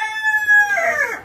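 A single mixed-breed native rooster crows nearby, a sustained call that ends in a rougher, breaking tail, with no talk around it.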